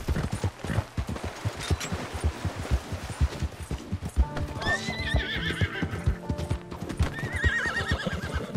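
Horse hooves clip-clop in a rapid rhythm in Red Dead Redemption 2, followed by loud, close whinnies and neighs rising over the galloping.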